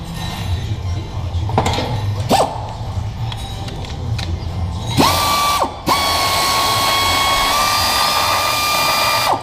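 A ratchet clicks steadily while removing the 13 mm knock sensor on a 2004 Cadillac CTS, with scattered short bursts of ratcheting followed by a long, continuous run of rapid pawl clicks, close and clear with no talking.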